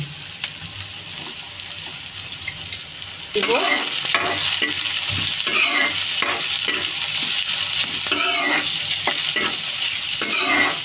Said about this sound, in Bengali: একটু সময় নিয়ে অল্প, খুব একটা ভাজবো না, অল্প করে ভেজে নিব।